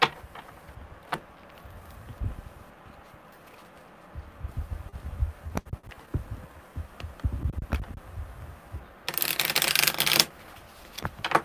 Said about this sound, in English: Don't like that shuffle at all.